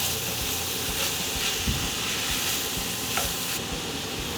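Vegetables sizzle and hiss in rendered sausage fat while a spoon stirs them, a steady close frying crackle with occasional scraping.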